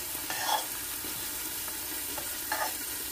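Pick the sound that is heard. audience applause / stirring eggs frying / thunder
stirring eggs frying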